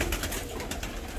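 Fancy pigeons cooing inside a crowded loft, including white birds with yellow heads, a soft continuous murmur of overlapping coos close by with no talking.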